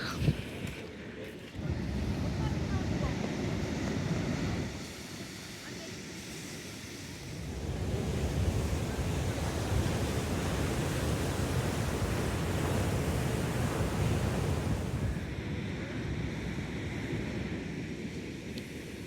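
Ocean surf rolls in at Rock Beach, Pondicherry, behind the Mahatma Gandhi statue at daybreak, a steady, continuous rush of breaking waves mixed with wind buffeting the microphone, with some quieter and louder stretches.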